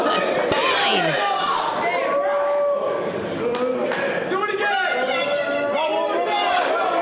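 A crowd at a live wrestling event, loud chatter, shouts and cheers filling the space continuously, with thuds and slaps from the ring and a commentator's voice over it.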